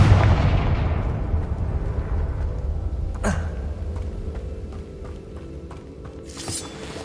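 A Confringo blasting spell in Hogwarts Legacy erupts in a loud, booming explosion that rumbles and fades, followed by a few smaller cracks and a later burst.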